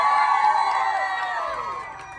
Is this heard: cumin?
no